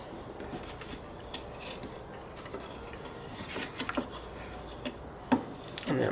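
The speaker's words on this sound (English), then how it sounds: "Stir it around to get up all the good crispy brown bits on the bottom." A utensil stirs mashed capers in a pan for chicken piccata, scraping up crispy brown bits with soft, irregular scrapes and light metallic taps, faint and close.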